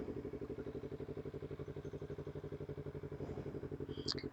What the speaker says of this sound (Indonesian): Ini aja kalau digeber tipis ya, coba ya.